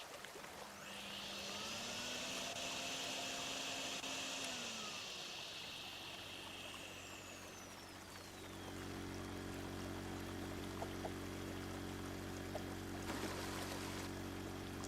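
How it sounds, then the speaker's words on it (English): Vacuuming up excess material in a video game produces a sustained airy hiss with a whistling tone that sweeps in pitch. Midway it drops into a lower droning hum, then a brief crackle near the end, with no talking. "I'll just vacuum the excess and we'll check if it reappears."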